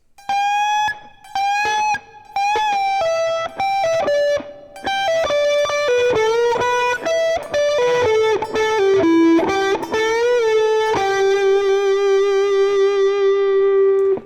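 Distorted electric guitar plays a fast solo line, sustained, bending notes, loud and close, ending on a long held note.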